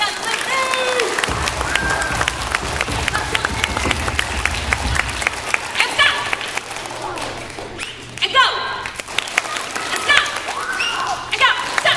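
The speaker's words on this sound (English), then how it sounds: "that clapping would have never, ever sounded that loud" School students clap together in a school hall, a dense crowd of applause that rises and stays busy, with voices speaking over it.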